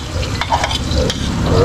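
Chopped tomatoes sizzle and fry in a hot pan while a utensil stirs and scrapes through them, close and steady over a short stretch.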